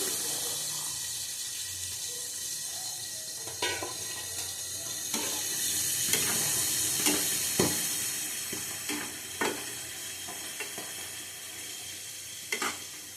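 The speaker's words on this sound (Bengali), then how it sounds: "দেবো অল্প করে জল" Water is poured into a pan of cooking poppy seed paste ground with mustard and dried chilli, giving a close continuous sizzle and hiss with occasional stirring clicks and clatters, no talking.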